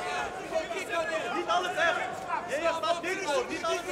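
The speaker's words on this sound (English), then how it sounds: "Crowd are trying to get behind Gegard Mousasi." Arena crowd at a Bellator 296 fight between Fabian Edwards and Gegard Mousasi, a lively murmur of many voices with scattered shouts, moderately loud and continuous, heard without commentary.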